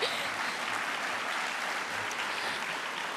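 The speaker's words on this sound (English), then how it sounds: "let's give a round of applause to the men and women behind the cookout counter" A graduating high school class claps in a steady, even wash of applause, continuous and moderately loud throughout, with no distinct voices standing out.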